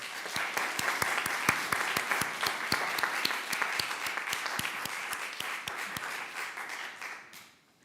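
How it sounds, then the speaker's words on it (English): Congregation in a church meeting clapping for a group of volunteers, a lively round of hand claps with a few sharp individual claps standing out, fading away near the end. "give these folks a huge round of applause"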